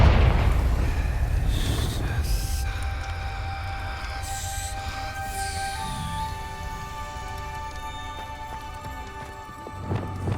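A Confringo spell blast in Hogwarts Legacy opens with a deep, rumbling burst, then fades under sustained tonal game music, with no talking.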